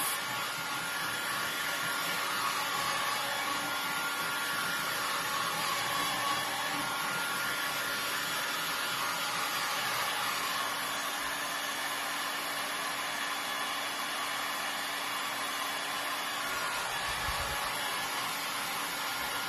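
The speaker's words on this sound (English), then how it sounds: "This heat gun gets hot." A heat gun blowing hot air over a painted thrifted piece, a steady loud whooshing roar that holds without a break, close and alone.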